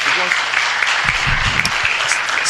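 A city council meeting audience applauds, a close, full wash of clapping that runs evenly throughout, with a brief low voice murmuring underneath partway through.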